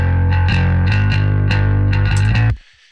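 Bass guitar played through a distortion effect, loud and gritty, with a run of picked notes in steady rhythm that cuts off abruptly near the end, no talking.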